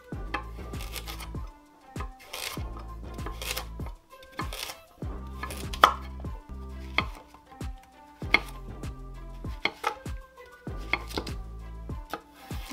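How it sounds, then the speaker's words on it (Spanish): Potatoes are chopped with a knife on a cutting board while preparing pork and turkey meatballs, giving sharp, close, evenly spaced chops in quick bursts separated by short pauses, with no talking. "Las papas las estoy picando"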